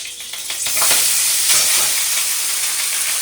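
Liquid poured into a hot wok hits the metal and bursts into a loud, steady sizzle that keeps hissing as it fries close by.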